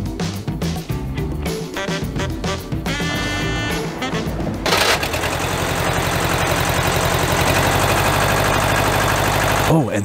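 A small tractor engine running with a modified exhaust, idling with a steady rumble that grows louder and rougher partway through, with talk over the early part.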